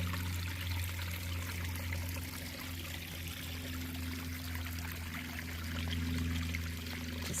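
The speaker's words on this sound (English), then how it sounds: "And the sound of the water." A mountain stream runs steadily downhill, a continuous rushing, splashing flow of water, fairly close and even in level, with no voices.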